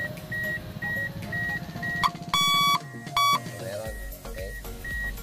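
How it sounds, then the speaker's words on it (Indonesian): Buzzer-type continuity tester beeping while checking car alarm wiring supply on a Toyota Altis, repeated short beeps plus two longer loud buzzes, close and alone without talk. "gumagamit kasi ako ng tester na buzzer para mas madali ko malaman kung may supply"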